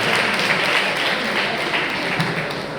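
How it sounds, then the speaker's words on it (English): Audience applause for a speaker during a question session at a school event, a steady wash of clapping from a crowd lasting the whole moment. "You're going to have applause for him too."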